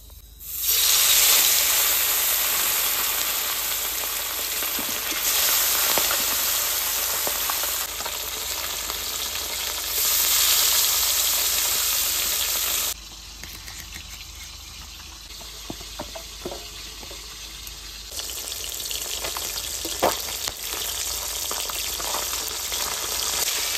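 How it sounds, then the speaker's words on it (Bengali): Fish frying in hot oil in a pan: a loud, continuous close sizzle and crackle that shifts in intensity, drops quieter for a stretch, then rises again, with no voices. "তেল গরম হয়ে গেছে, এবার মাছ দিয়ে দেবো।"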